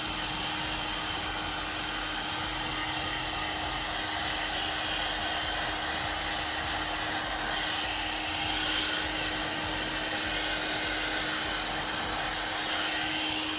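Heat gun drying fresh touch-up paint on a car chip repair, a constant loud blowing whoosh with a steady motor hum, unbroken throughout.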